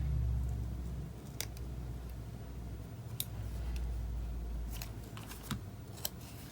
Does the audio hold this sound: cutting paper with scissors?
yes